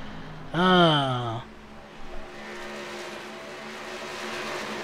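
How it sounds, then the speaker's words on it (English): NASCAR Xfinity race cars on an oval track at Auto Club, one car screaming past close with a rising-then-falling engine whine for about a second, followed by a distant, steady engine drone from the field. "As we'll turn those car sounds up just a little bit here for you."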